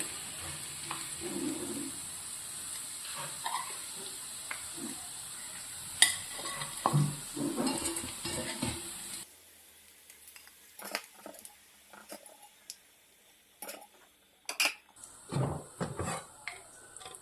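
Beef pieces fry in hot oil for a Kerala-style beef pickle, a steady bright sizzle broken by stirring scrapes and utensil clinks. The frying cuts off partway through, leaving sparse clatter and quieter intermittent sizzling. No one talks.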